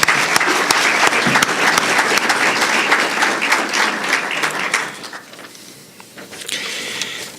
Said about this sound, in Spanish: pido un gran aplauso de reconocimiento